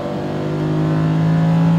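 A Lamborghini Huracan accelerates hard on a race track, its engine a loud, steady, close drone that climbs gradually in pitch and volume with no pause.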